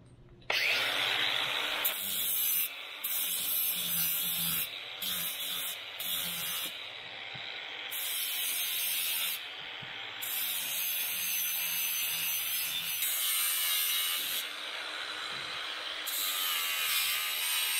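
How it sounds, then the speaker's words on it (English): An angle grinder cutting steel for a hammock receiver mount, a sustained loud high-pitched whine and hiss that runs for most of the stretch with brief interruptions and shifts in pitch as the disc bites the metal. "we're going to go ahead and grind this up real quick"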